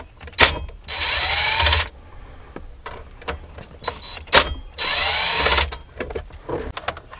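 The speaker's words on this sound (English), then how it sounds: "I'm just going to use my impact tool again, save myself some time" An impact tool spins out screws while a car stereo is removed from a 2006 Toyota Highlander, giving two separate whirring bursts of about a second each, with faint clicks and handling noise between them.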